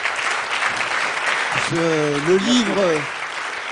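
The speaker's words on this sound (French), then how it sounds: "Il y a trop d'applaudissements" Audience applause at a French talk on supernovae and the explosive death of stars, a steady wash of clapping throughout, with a voice speaking over it midway.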